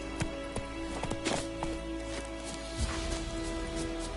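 Hooves of the horse Roach clip-clop in the game The Witcher 3, a steady trotting beat set low under a constant dense game soundscape, fairly faint and mixed into background ambience.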